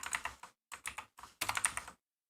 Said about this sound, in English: I'm typing out the comma again.